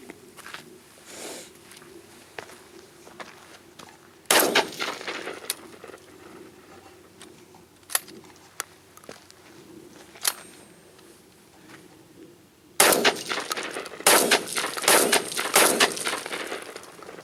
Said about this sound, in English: we're gonna shoot some federal birdshot just to see if the semi-automatic will cycle it